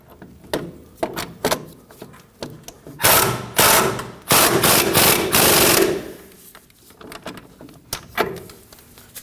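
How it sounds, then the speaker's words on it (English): Tightening the upper ball joint nut on a 2009-2014 Ford F-150 steering knuckle: sharp ratchet clicks up close, then several loud whirring bursts from a power tool, then more scattered clicks tapering off. "go ahead and snug our upper ball joint nut down"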